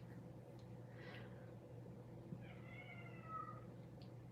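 A cat meows loudly from downstairs in two drawn-out, wavering calls, the second longer, set against a steady low household hum.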